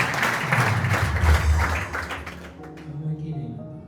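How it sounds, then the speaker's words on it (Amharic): An audience clapping to welcome a newcomer at a prophetic church gathering, a burst of applause with voices over it that fades out in the final second as a speaker carries on. "አጨብጭቡላት።"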